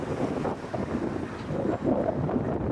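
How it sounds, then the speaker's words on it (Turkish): Strong wind buffets the microphone in steady gusts in Niš, Serbia, producing a loud, blustery roar throughout. "Çok esiyor, çok rüzgar var."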